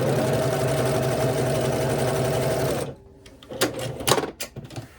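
A sewing machine runs in one steady, fast burst, stitching quilt squares together for a herringbone quilt, then stops, followed by a few soft handling clicks and fabric rustles.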